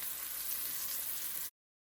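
Flour-coated beef strips for broccoli beef frying in a pan, a steady bright sizzle that holds even and fairly quiet for about a second and a half, then cuts off abruptly.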